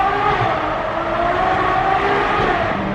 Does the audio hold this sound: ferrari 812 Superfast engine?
yes